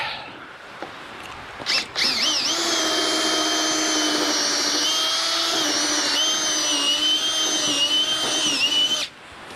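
A power drill whines loudly and steadily for several seconds, its pitch wavering slightly as it bites through steel, then stops abruptly.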